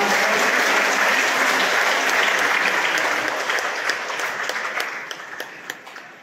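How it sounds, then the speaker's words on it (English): Dense, sustained applause from a parish congregation welcoming their newly installed priest at Mt. Carmel Parish in Naga City, loud and steady before gradually thinning into scattered claps toward the end. "Let us give him a round of applause"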